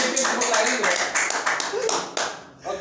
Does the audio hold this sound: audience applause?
yes